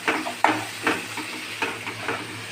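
Onion and tomato frying in hot oil for a puti fish dish, a close sizzle broken by several rhythmic stirring scrapes about every half second.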